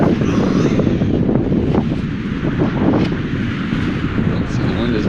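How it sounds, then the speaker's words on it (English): Strong wind buffets the microphone on a South Padre Island beach, a loud, continuous roaring rumble that covers everything, with a muffled voice faintly present beneath it. "the wind is blowing this way"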